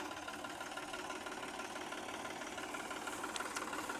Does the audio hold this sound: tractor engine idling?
yes